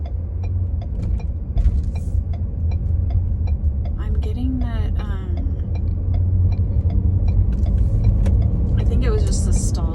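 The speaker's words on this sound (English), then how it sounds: "driving on the freeway" Car cruising on a freeway, with steady low road and engine rumble throughout, faint ticking, and brief speech and other sounds over the drone.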